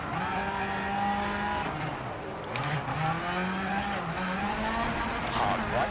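A rally car in EA WRC 24 drives hard through a stage, its engine note rising and falling as it accelerates and shifts, with skidding tire noise. A co-driver's voice calls pace notes over the engine.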